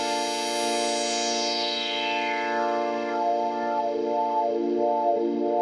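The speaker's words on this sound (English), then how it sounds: "And you can hear the LFOs modulating it." A buzzy Native Instruments software synthesizer tone holding steady harmonics while LFO modulation sweeps the filter down with a rhythmic wobble, bright and continuous with no voices.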